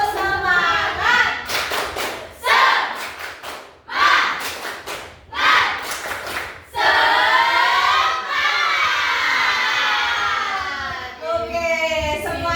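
Schoolchildren in a classroom perform a rhythmic spirit clap in fast bursts of clapping and thumps, broken by short pauses, then shout together loudly and keep chanting.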